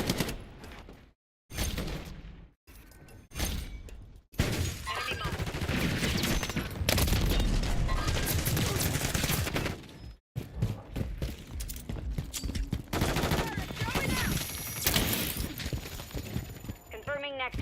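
Gunfire in the Call of Duty Modern Warfare III match on the Tokyo map, dense bursts of automatic fire and shots in dense clusters, loud and continuous with brief gaps, mixed with game voices calling out.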